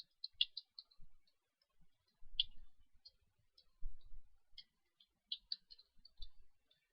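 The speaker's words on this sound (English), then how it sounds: "So my typing is terrible." Typing on a computer keyboard while writing C++ code, quiet irregular clicks and taps in short bursts with brief pauses, close and soft with no voices.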